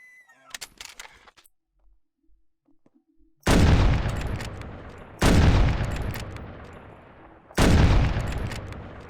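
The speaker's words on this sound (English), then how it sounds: "a few more shots than I probably should have used, but it's at least one animal down" Three loud rifle shots from a hunting video game, each a sharp blast with a long decaying tail, spaced a couple of seconds apart after a stretch of faint clicks and near-silence.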